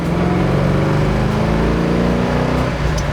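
A 1969 Ford Mustang Mach 1 with its 390 V8 and 4-speed revs hard and loud up close, the engine note sweeping upward continuously as it pulls through a gear.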